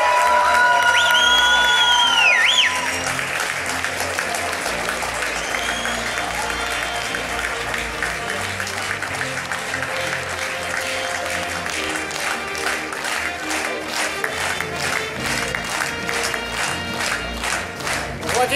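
A concert hall audience gives a loud, sustained ovation at a gala festival concert, dense applause with scattered cheers and whoops running throughout, growing into rhythmic clapping toward the end.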